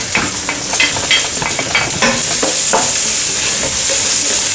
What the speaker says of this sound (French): l'huile est déjà en train de chauffer, je vais tout de suite faire cuire les oignons.